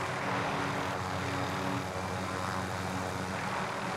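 A helicopter descends in a video game, its rotor and engine making a loud, constant roar that fills the whole stretch without a break.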